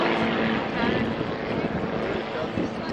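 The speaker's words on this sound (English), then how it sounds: "2-seat advanced competition aircraft." A two-seat advanced competition aircraft at an air show in Fairford, its propeller engine droning steadily and loudly with wind buffeting, while a commentator talks over it.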